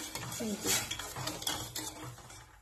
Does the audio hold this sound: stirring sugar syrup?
yes